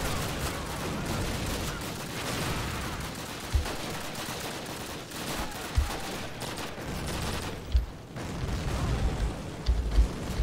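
Sustained gunfire from the first Call of Duty game, a 2003 shooter campaign, with a dense continuous rattle of weapons and sharp louder shots punching through every couple of seconds.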